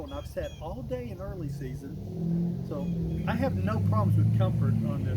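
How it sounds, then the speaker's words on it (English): Road traffic near an early-season hunting spot gives off a steady hum of passing vehicles that swells as a car goes by, sitting low beneath someone talking close to the microphone. "Sorry about the traffic noise."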